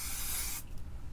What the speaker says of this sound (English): So I'll just do a light spray